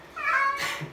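A house cat lets out a single drawn-out meow close by indoors, loud and clear, lasting about a second with no talking.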